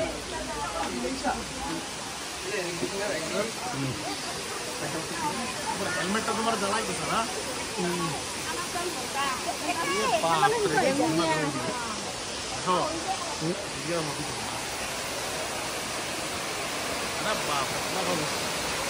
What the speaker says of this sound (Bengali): এই ঝর্ণা ফলসগুলোর কি আওয়াজ দেখেন, একদম ন্যাচারাল আওয়াজ